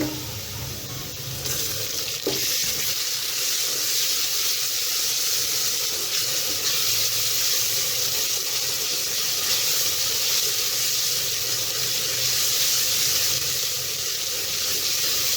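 Ginger garlic paste fries with onions in a pan over low flame, a steady, close hissing sizzle that holds evenly throughout with a brief clatter early on.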